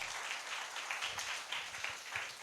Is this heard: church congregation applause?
yes